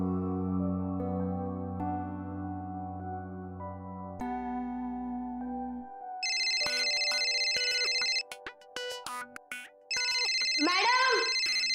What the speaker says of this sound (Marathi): फोन वाजतो कधीपासून, लवकर उचला तरी तो.